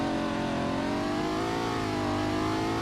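A car engine in the video game Greenville revs steadily and loudly throughout, a continuous mid-pitched roar with a slight whine, close and uninterrupted.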